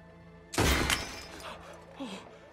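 Gunfire in Red Dead Redemption 2 strikes and breaks metal chains: one loud, sharp shattering burst lasts about half a second, followed by a fading rattle and a brief softer clink.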